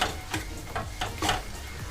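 Pieces of egg omelette for momo filling are fried and turned in a pan, with a soft sizzle and several quick scraping strokes in an irregular rhythm, close and fairly quiet.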